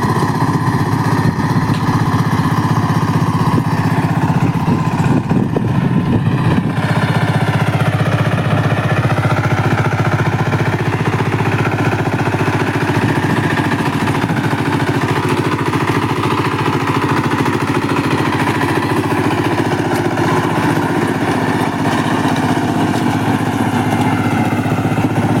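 A KAMCO Super DI diesel power tiller engine running steadily, a loud rough mid-pitched chugging drone that holds constant and close for the whole stretch without pause.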